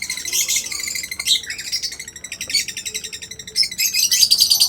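A young lutino hen chirps in a busy run of bright, rapid tweets that repeat almost the whole way through, with a brief dip near the midpoint, close and fairly loud, and no voices.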